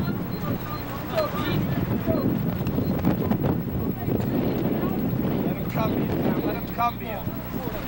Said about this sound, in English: The wind is blowing us all over the place.